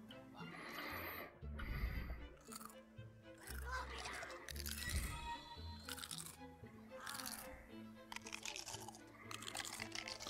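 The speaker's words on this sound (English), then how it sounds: "There's a lot of crunching going on." Crunching sounds in the pirate game Pixel Piracy, irregular crisp bursts scattered among game music and effects at low volume.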